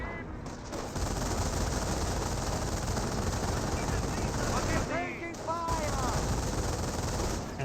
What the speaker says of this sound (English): And now the rifle squad receiving more and more fire there.